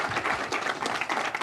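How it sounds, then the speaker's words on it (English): Steady applause from an audience, many hands clapping together in a dense, continuous wash for the whole stretch. "now gives you a great big round of applause"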